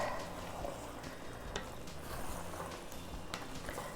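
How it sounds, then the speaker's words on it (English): Braised cabbage and dumplings (halushki) stirred together in a pot, a steady soft sizzle and wet squishing bed with occasional sharper scrapes of the spoon, close and continuous. "And now we just stir this all together."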